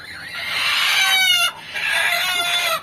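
Hens clucking close by beside a hen brooding her newly hatched chicks on a rural homestead, a steady run of clucks broken by a brief pause midway.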